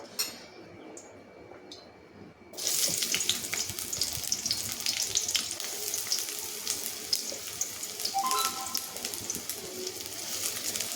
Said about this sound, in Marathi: आता आपण त्याचप्रमाणे कांदा, टमाटर आणि लसूणही तळून घेऊया